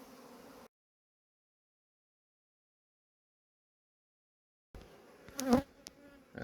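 Honey bee swarm buzzing faintly, heard in two short stretches separated by a long silent gap, with a louder, closer burst near the end.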